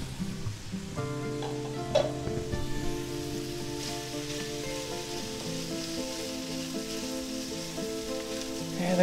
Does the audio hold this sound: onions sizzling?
yes